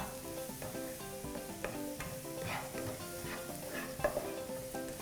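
Garlic fries in a pan for stir-fried prawns with chili and salt, giving a continuous close sizzle with soft stirring scrapes and small clinks running through it.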